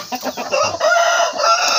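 Free-range village chickens and a rooster make loud clucking and a crowing call close by, in quick bursts that build into a sustained cry.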